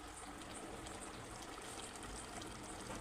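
A steady gush of water runs continuously, poured over rice for chicken biryani, with no talking.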